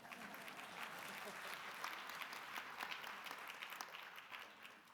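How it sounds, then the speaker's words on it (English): Faint, steady applause from an audience at a Living Legends ceremony honoring Sister Rosemary Donnelly, a soft continuous patter of clapping heard at a distance. "You can clap for her."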